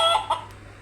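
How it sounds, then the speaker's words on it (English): A button on a Matchbox farm playset toy plays a recorded chicken sound: two quick, close clucks in a row, then a fading tail, with no talk. "that's another chicken sound."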